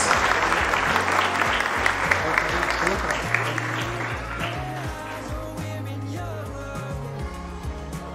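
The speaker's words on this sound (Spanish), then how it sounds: "Denle un fuerte aplauso al Señor." A church congregation at a wedding ceremony bursts into loud, sustained applause, dense clapping that slowly thins, with voices mixed in underneath.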